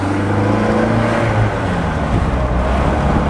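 A 1962 Mercedes-Benz 190SL roadster with a freshly rebuilt 4-cylinder engine and 4-speed gearbox drives along, its steady engine drone and road rumble loud and continuous with no talk.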